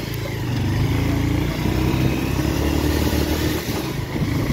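A Bajaj motorcycle engine rumbles steadily at close range with a constant wash of noise as the bike moves slowly through water at night.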